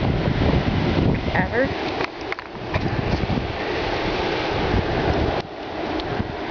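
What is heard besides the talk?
strong windstorm gusts blowing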